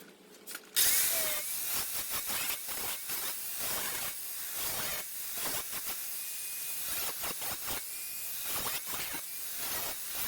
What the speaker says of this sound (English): I'll clean this up with a sander right now